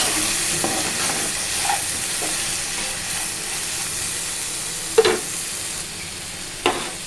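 Ivy gourd fry cooking in a pan after turmeric goes in, a continuous bright sizzle and hiss up close, broken by a few clinks and scrapes of a spoon stirring.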